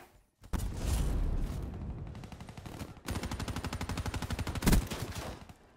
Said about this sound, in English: That's not an SMG, that's a fucking laser.